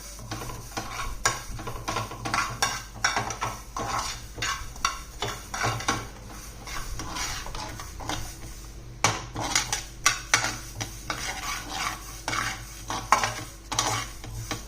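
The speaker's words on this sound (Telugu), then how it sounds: "దాంట్లో ఆవాలు, ధనియాలు, జీలకర్ర ఇవన్నీ కొంచెం లైట్గా మాడతట్టుగా మామూలు లైట్గా వేపుకోవాలి" Mustard seeds, coriander and cumin roast in a pan with steady crackling and sizzling, broken by frequent close scraping and stirring clatters of a utensil against the metal.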